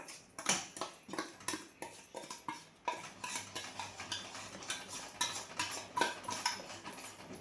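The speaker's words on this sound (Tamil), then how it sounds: "சர்க்கரை சரி போட்டு இப்போ இதை கிண்டணும். இதை கிண்டினா இது இலகும்." A utensil scrapes and knocks steadily against a pan while Ashoka halwa made with roasted semolina, maida and sugar is stirred, a close, rhythmic clatter repeating about twice a second with no voices.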